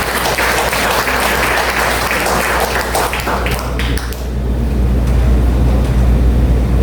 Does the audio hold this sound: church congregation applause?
yes